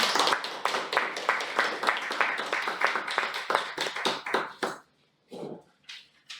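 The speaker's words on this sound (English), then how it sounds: "So let's give a huge round of applause to Toastmaster Samani." An audience at a Toastmasters club meeting claps steadily for about four and a half seconds. The applause then stops abruptly, leaving a few brief, scattered sounds.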